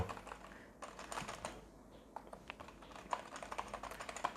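Steady keystrokes on a physical keyboard plugged into an Infinix XPad tablet through an OTG adapter, a close run of quick, uneven clicks with brief pauses and no talking.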